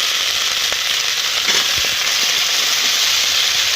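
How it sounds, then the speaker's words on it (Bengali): Cauliflower florets and potato pieces frying in hot oil, a steady close-up sizzle running continuously with a few soft clinks of a utensil against the pan. "ভাজা করে নিচ্ছি। ফুলকপির সঙ্গে আমি আলুটাও দিয়ে দিচ্ছি।"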